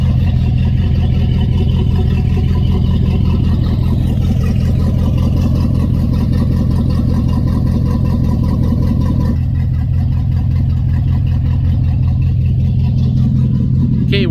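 Volvo Penta 8.1 liter gas marine engine on a boat idling during a fresh water rinse, a loud close steady low rumble with a faint periodic throb, continuous throughout with no talk.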